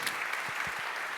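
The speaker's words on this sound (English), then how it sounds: "Make another big applause for Neal" A brief burst of steady audience applause after a conference talk on microservices architecture, continuous clapping with a few low thumps underneath.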